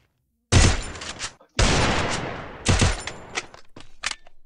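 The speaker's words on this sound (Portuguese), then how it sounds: "Pega a XM8 também, só pra dar uns tiros." Bursts of rapid automatic XM8 rifle fire in Free Fire, several sharp volleys separated by brief pauses, loud and close with a trailing echo.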